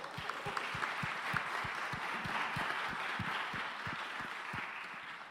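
Steady audience applause fills a room at a peace-building theater talk, a continuous bright wash of many hands with a few distinct nearer claps thumping in a loose rhythm, moderately loud throughout.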